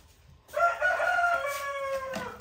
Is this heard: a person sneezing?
no